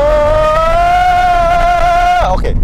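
An electric Mini Cooper pulls away under acceleration, giving a steady rising electric whine for about two seconds before cutting off abruptly, loud and close with no talking.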